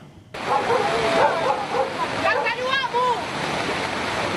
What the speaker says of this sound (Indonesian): Arus deras langsung menghantam permukiman warga di Kecamatan Tuka